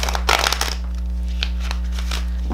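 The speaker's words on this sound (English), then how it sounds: "One last shuffle with these." Tarot cards riffled in a quick shuffle, a dense papery flutter up close in the first second, then a few lighter card taps and slides over a steady low hum.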